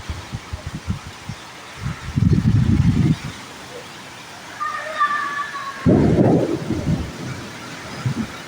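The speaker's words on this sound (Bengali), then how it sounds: "প্রচন্ড ঝড় হচ্ছে" Deep rumbling bursts of thunder roll in twice amid a steady wash of heavy rain in Khulna, Bangladesh, with gusty low rumbles between them.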